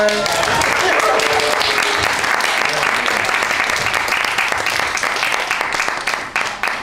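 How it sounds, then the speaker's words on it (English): Sustained audience applause after a film screening and Q&A, dense and steady clapping from a full room that begins to thin and fade toward the end, with faint talk mixed in underneath. "Can we give out another round of applause for..."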